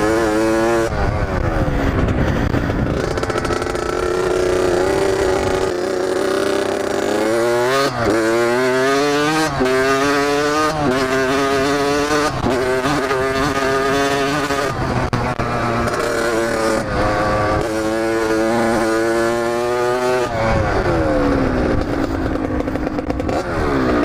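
A motorcycle engine roars loud and close throughout, its pitch climbing and dropping through repeated gear shifts while accelerating on a ride.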